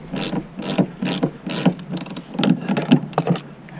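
A ratchet wrench clicks in quick bursts while loosening the rear shock bolts on a 2006 Toyota Sienna, the rapid pawl ratcheting close and clear with short pauses between strokes.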